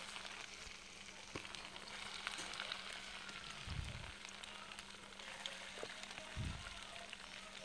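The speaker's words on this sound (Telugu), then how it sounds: "చూడండి అవి డీప్ ఫ్రై అయ్యే విధంగా మనం సిమ్ లో పెట్టుకొని వేయించుకోవాలండి" Leftover rice punugulu deep frying in hot oil on a low flame, a quiet continuous sizzle and crackle with a couple of soft low bumps, no talking.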